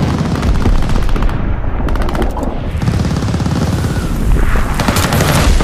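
A V2 rocket strike in a war video game: loud, continuous rattling gunfire and booming blasts fill the scene, with no gaps and no voices.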